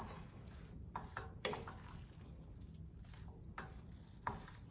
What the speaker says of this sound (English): And I'm just going to stir to combine all of this